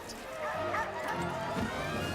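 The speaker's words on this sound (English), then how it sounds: "Dogs, they're coming." A dog gives high yipping barks amid a dense, busy background of voices and music, the barks blending into the mix rather than standing out alone.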